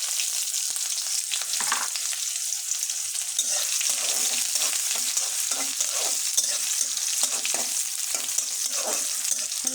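Chopped onions and minced garlic frying in a pan for a vegetable dish, a steady sizzle with intermittent scraping stirs of a spatula, no talking.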